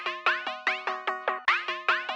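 A bright synthesizer loop repeats quickly, each plucky note striking and fading in a steady rhythm, alone and clear.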